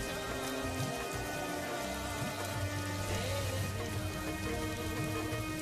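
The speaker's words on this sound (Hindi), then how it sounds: "देखते ही देखते भयंकर बारिश शुरू हो जाती है" Heavy rain pours down in cold winter weather, a dense, unbroken patter and hiss that stays steady and close throughout.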